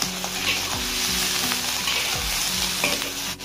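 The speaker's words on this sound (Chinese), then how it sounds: "然后稍微翻炒一下。" Cured Guangxi-style fish with oyster sauce sizzles in a hot wok, with steady frying hiss and repeated scraping stirs at an even rhythm, close and loud, with no talking.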